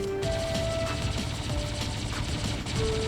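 Rapid robot weapon fire in the mech combat game War Robots, a dense continuous rattling burst with mechanical whirring and tonal game sounds layered over it, loud and close throughout.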